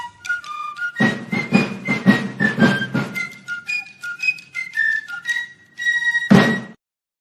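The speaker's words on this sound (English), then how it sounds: "I like the penny whistle." A penny whistle plays a lively melody of bright, clear notes up close, with short gaps between phrases and a few soft thumps underneath.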